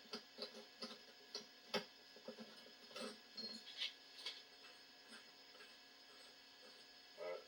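A homemade wrench turns a part of an antique Walker model 782 two-ton floor jack, making quiet clicks and short ratcheting rasps that come in uneven bursts with pauses between them.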